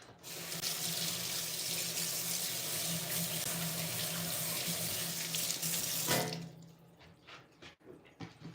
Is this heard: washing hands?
yes